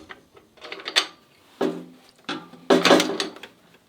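Bolts are pushed through holes onto a bull bar mounting surface during a driving light installation, producing a few close metallic scrapes and clunks in irregular bursts with quiet gaps between them.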